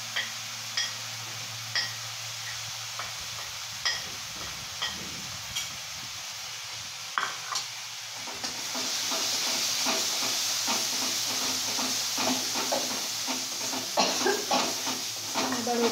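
Bombay duck fish sautés with salt, turmeric and red chili. Light spoon taps come first, then a steady, close frying hiss builds and continues with occasional clinks.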